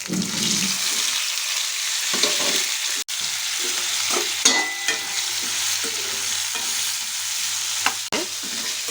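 Potato pieces fry and get stirred in a pan for an aloo fry: a steady broadband sizzle runs throughout, broken by scraping spatula strokes and a few sharp knocks, with a low hum underneath and no talking.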